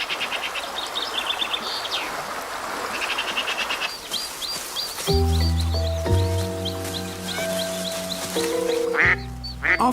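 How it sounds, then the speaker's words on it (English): A duck with her ducklings in a garden setting quacks in a string of calls through the first half amid dense outdoor ambience, later overlaid by sustained tonal music. "After a week in hiding, Doris is ready to bring her ducklings into the open."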